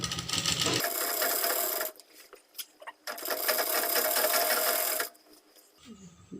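A sewing machine stitching slanted and straight petticoat panels together runs in two loud, fast, whirring bursts of stitching. A pause with light handling noises separates them, and a brief quiet follows the second burst.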